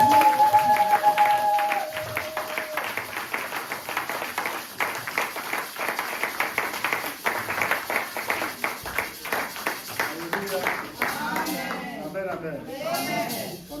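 Sunday church service congregation clapping hard and calling out in acclaim, a dense wash of hand claps and raised voices, with shouts and cheers swelling again near the end.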